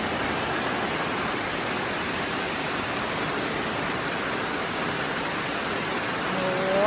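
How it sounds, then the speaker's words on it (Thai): Heavy rain pouring down outdoors, a dense, even hiss of countless drops striking surfaces, loud and close, continuing unbroken with no voices. "มาดูฝนกันค่ะ"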